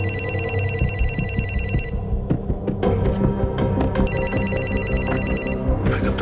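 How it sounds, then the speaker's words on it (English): A telephone rings in bursts of electronic trilling, two long rings separated by a pause filled with low rumbling and knocks, fairly loud and close in an indoor scene from a daytime soap. "Why the hell aren't you picking up the phone?"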